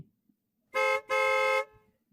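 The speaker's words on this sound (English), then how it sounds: "A car horn breaks her reverie." A car horn blasts twice, in a short toot followed straight away by a longer honk, loud and clear against near silence.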